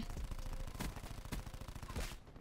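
Rapid automatic gunfire from a first-person shooter game with a Cordite weapon, loud fast bursts of shots close up, with a few heavier blasts cutting through and no talk.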